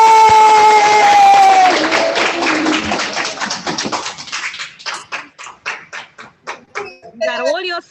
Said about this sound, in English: Everybody say yay!